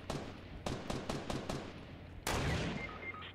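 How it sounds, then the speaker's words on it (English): Gunfire in the Fortnite Battle Royale video game: a quick string of about seven sharp shots, followed by a louder burst and a fading echo, moderately distant with no talk. "I'm going to fire at him."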